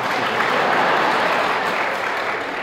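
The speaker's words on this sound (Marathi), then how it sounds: "मला दोन्ही टाळ्या." A college audience at a junior college prize distribution ceremony breaks into steady, dense applause that holds at full strength for a few seconds before easing slightly.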